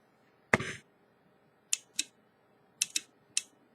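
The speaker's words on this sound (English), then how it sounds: "even these ones make a slightly audible click." Small electrical relays switch with sharp, close clicks: one stronger snap, then about five lighter ticks in irregular pairs and singles against a quiet background.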